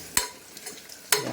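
Sautéing in a pan for a tomato bath, with turmeric powder just added: two short, sharp stirring scrapes spaced about a second apart, close and clear over a faint sizzle.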